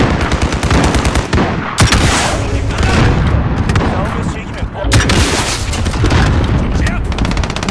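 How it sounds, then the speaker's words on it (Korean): Loud, close gunfire in Call of Duty: Warzone, with rapid machine-gun bursts and heavy booming shots in quick clusters, a few brief lulls between volleys and voices speaking over the fighting. "야 오른쪽 오른쪽에서 쏜다"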